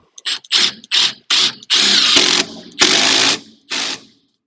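A brushless cordless DeWalt or Milwaukee Fuel drill runs in loud, close bursts, some short trigger pulls and some longer whines, with silent pauses between them.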